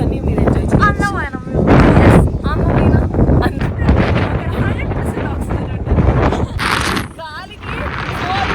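Strong gusty wind buffets the microphone at a hilltop viewpoint during a monsoon trip in Coorg and Chikmagalur, loud and continuous, while a person talks over it.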